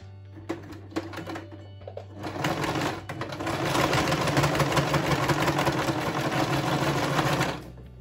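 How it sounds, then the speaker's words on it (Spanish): A sewing machine topstitching close to the seam of a tote bag with leather handles: a few clicks at first, then a loud, steady mechanical whirr that runs for several seconds before stopping near the end. "Y por la zona de la costura le voy a pasar también un pespunte por aquí, cerquita del borde."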